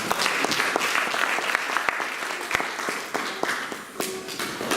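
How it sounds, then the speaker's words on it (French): A church congregation applauds after a sermon with dense, sustained clapping that fills the room, loud and even throughout, with a few sharper claps standing out. "On acclame la parole"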